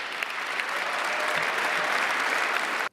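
Steady, dense crowd applause fills a political speech venue, many hands clapping at once with a few faint voices underneath, holding level for a few seconds before cutting off abruptly.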